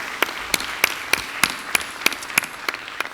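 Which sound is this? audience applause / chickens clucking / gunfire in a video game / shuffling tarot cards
audience applause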